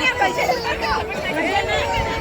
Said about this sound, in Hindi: बहुत ज़्यादा भीड़ है, बहुत ज़्यादा भीड़ है।